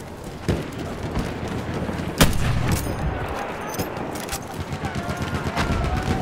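Gunfire rattles through a Battlefield 1 match, with scattered shots and sharp cracks over a dense, continuous battlefield din. A louder blast lands near the middle. The firing stays moderately close and busy throughout, with no talking.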